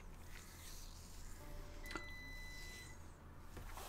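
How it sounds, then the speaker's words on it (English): Electronic beeps from a home dishwasher, a few faint high tones sounding softly in a quiet room, with a brief click in the middle. "dishwasher is beeping me into psychological, I need to turn it off"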